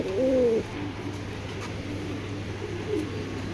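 Dhaka giribaj tournament-line pigeon cooing close by, one clear soft coo at the start and a fainter one near the end, over a quiet low hum.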